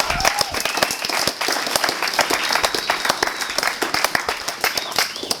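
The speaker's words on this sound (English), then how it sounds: "I want to hear your absolute loudest round of applause for everyone who gets up here tonight." An audience applauds at an evening recognition ceremony for Phase 3 program completions, producing dense, steady clapping from a roomful of people that holds at even strength throughout.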